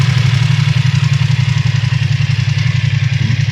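A Hero Karizma XMR inline twin motorcycle engine with stock exhaust idles steadily up close, a low throbbing pulse with an even, continuous rhythm and no talk over it.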